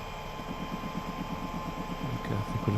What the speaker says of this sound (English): we'll have a bit of a walk around the dryer here as this is unloading